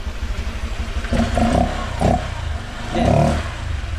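Honda Click V3 scooter fitted with a mushroom air filter, the engine idling with a steady putter and then revving in three short bursts that swell and fall back, close and loud.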